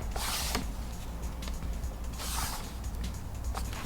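AudioControl A800 amplifier being screwed onto a mounting board at a bench during a Ram bass upgrade: ratcheting, creaking turns of a screwdriver in repeated bursts, close and fairly quiet, with no talking.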